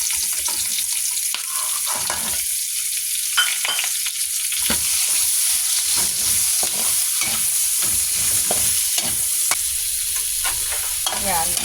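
Onions fry in a pan for pork steak after the pork has been fried and removed, giving a continuous sizzle with repeated scraping and stirring strokes of a utensil, close and fairly loud, with no talking.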